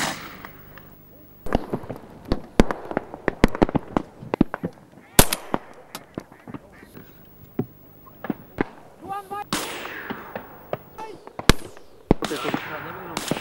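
Repeated sharp shotgun blasts at coots, some close and loud, others distant, scattered irregularly with voices talking faintly between them.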